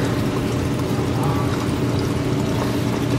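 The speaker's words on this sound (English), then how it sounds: "Put sand in the water, it's all right." Sand is poured into aquarium water in a chain catshark tank, giving a steady, dense, loud rushing pour with no break and no voices.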